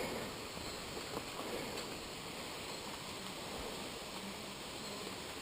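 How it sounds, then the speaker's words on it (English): Manoa waterfall on Oahu, Hawaii, a drop of over 100 feet, roars as a steady, dense broadband rush of falling water, continuous and even throughout with no voices. "Finally reached the waterfall."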